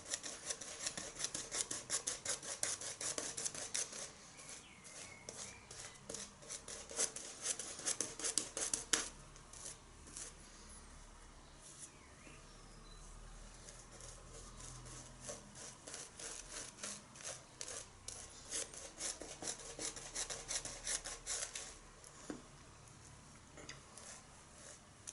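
A razor scraping short strokes to line up sideburns on a close-cropped head: quiet, rapid raspy ticks in bursts, with a few pauses and no talking.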